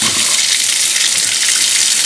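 A newly installed kitchen faucet runs at full flow into the sink, a loud, steady, close-up gush of water with no voices.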